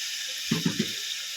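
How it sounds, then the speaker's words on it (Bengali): Water poured into a pan of masala while cooking fish curry, heard as three quick, close splashes within about a second over a low background hiss. "মিক্সিং যা ধোয়ার অল্প একটু জল দিয়ে দেবো"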